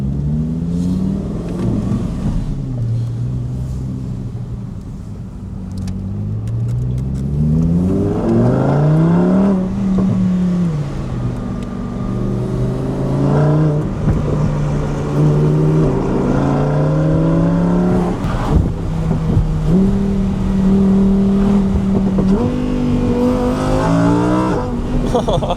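Supercar with a Corsa exhaust on backroads, its valves open, revving hard through repeated upshifts with rising and falling engine notes, loud and close, with voices talking over it.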